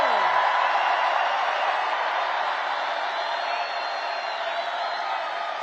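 A large crowd at Donald Trump's final MAGA rally before Election Day 2024 cheers steadily, a dense, continuous roar with whoops that fades slightly over time.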